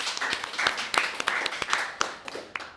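A small group claps for a young speaker at an indoor youth forum, scattered sharp individual claps at moderate distance, fairly quiet and uneven.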